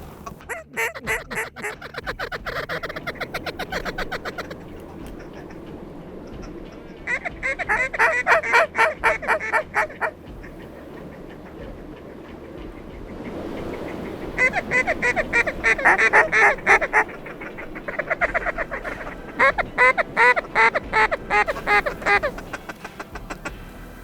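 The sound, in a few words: mallard ducks calling in flight over creek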